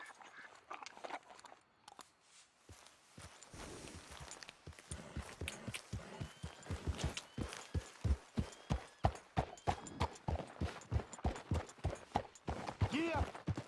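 Horse hooves clip-clop steadily in the Red Dead Redemption 2 video game, starting faint and building into a close, rhythmic trot of evenly spaced thuds with a brief voice at the start.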